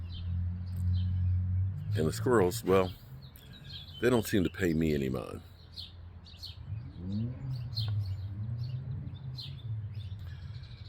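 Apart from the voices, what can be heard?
birds chirping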